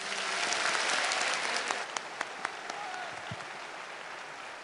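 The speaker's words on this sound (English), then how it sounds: "Another round of applause for the secretary" Sustained applause from a large audience in a naval academy lecture hall, a dense wash of clapping that gradually thins, with a few distinct louder claps standing out near the end.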